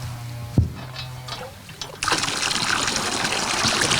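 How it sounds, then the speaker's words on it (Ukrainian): Water runs where displaced residents in a Ukrainian village collect their supply, starting as a light trickle and dribble after a single knock, then becoming a steady, louder splashing flow that continues to the end. "Показують, де зараз беруть воду."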